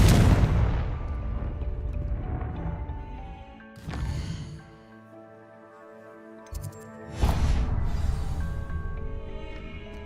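Confringo blasting spells in the Hogwarts Legacy video game explode in loud, booming bursts, one strong blast at the start, another near four seconds and a third around seven seconds, each trailing off into ringing magical tones.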